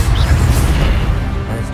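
A quick Incendio fire spell from Hogwarts Legacy combat on PS5, a short loud crashing burst with a fiery whoosh that decays over under two seconds.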